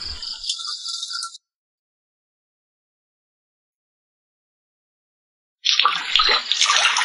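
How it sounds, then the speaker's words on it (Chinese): Running water rinses freshly cut fish, a close, steady splashing rush that stops abruptly, leaves several seconds of silence, then resumes just as loud. "终于切好了，再洗一轮就干净了"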